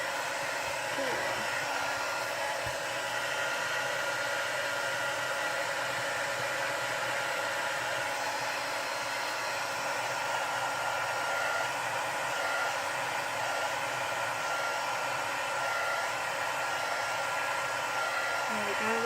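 A heat tool blowing hot air over stamped paper for a candle craft, a loud, steady whooshing blower hum that runs unbroken and close throughout.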